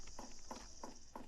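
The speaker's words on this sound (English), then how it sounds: "You can, if you change the material equals cement. It's going to change the footstep sound." Footsteps on a cement surface in a level-editor video game, four evenly spaced, crisp steps ringing out alone over a faint steady hiss.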